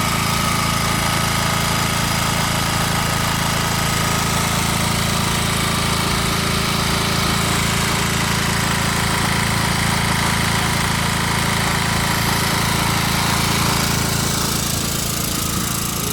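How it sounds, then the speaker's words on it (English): Portable generator running beside a 2018 Keystone Hideout 26LHSWE travel trailer, a steady loud engine drone with constant low hum and mechanical rattle, continuous for the whole stretch with no talking. "So you will set up your generator."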